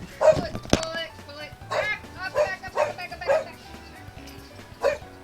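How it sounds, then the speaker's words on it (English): A dog at home barks repeatedly, five or six sharp yipping barks spaced about a second apart, fairly close and loud over steady background music. "Dogs barking"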